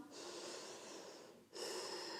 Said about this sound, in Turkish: Nefes al ve ver burnundan